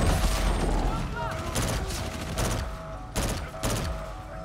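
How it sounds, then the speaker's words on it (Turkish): Grenade blasts in Call of Duty Infinite Warfare, several sharp loud bursts in quick succession over continuous battle noise, with a voice talking at moments. "Fazladan bomba fırlattık ya yanlışlıkla."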